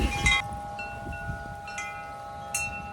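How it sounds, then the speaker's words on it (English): Wind buffets the microphone in gusty low rumbles, with a steady faint tone and a couple of brief rustling bursts. "Wow, it's windy!"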